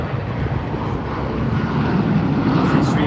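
A Sri Lankan Airlines airliner taking off at Sydney International Airport, a loud, continuous broadband jet roar that swells slightly and holds steady, heard from nearby with no voices.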